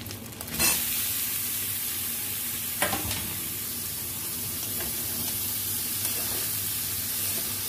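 Taro pieces hit hot oil in which prawns were fried with salt and turmeric, giving a steady, close sizzle throughout with a couple of brief stirring clatters and no talk.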